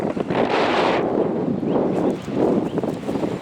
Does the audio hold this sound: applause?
no